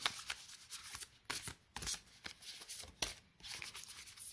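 Tarot cards being shuffled by hand, close up in quick riffling bursts with short pauses between them, crisp and papery.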